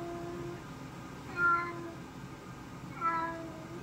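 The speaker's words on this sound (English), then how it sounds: "This is a cat." A cat meow played by a Google smart speaker sounds twice, two short, moderately loud meows about a second and a half apart over quiet background hum.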